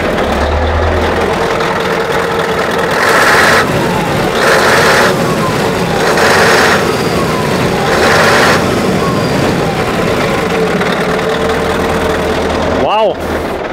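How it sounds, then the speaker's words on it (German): A 2000 Scania truck with a V8 engine and exhaust, converted into a motorhome, runs at a steady low idle, loud and close, with a few brief revs, while people talk nearby. "Die Auspuffanlage ist hier und der Motor, den kriegt man gut hier mit, oder?"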